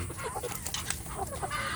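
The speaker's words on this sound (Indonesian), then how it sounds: "waktunya ayam kampung saya itu sedang bertelur ya" Free-range village hens cluck softly in a coop during laying time, a few short, faint calls over low background noise.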